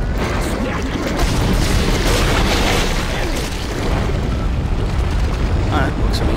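A loud, dense blast from an exploder enemy bursting in the survival horror game Dead Space, a continuous roaring wash of noise with crashing debris filling the whole stretch.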